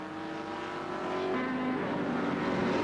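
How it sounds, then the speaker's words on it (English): Saloon race cars at Brands Hatch in 1987 drone down the straight, a Vauxhall Carlton among them with a misfire, the engine note rising slightly and holding steady at moderate distance. "Definitely a misfire in that second place car with Vince Woodman aboard at the moment"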